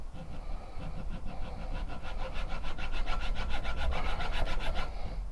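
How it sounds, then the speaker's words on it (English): A hand file rasps against a metal part clamped in a vise, in a steady run of back-and-forth strokes that grow slightly louder and quicker toward the end, close and continuous with no talking. "put it in a vise and file away some of the metal"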